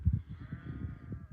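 A sheep bleats in a low, wavering call, close and fairly quiet, from a field where four sheep, two of them mothers with lambs, lie resting.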